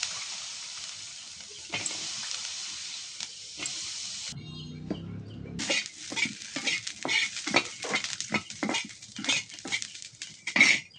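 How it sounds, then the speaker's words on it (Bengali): Green chilies fry in hot oil, a continuous sizzle broken by a short pause, then resuming with repeated scraping stirs and crackling pops. "কাঁচামরিচ গুলা ভাজিয়ে নিই"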